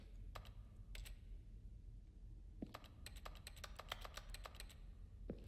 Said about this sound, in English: Hear that clicking?